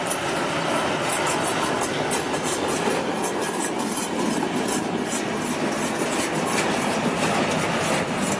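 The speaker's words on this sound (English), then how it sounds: "trucks equipped with metal wheels for railway tracks are used to transport gravel and construction materials" Metal-wheeled truck hauling gravel along railway tracks during railway construction in India, giving a steady, loud rolling rumble with rhythmic clickety-clack wheel beats and metallic rubbing throughout.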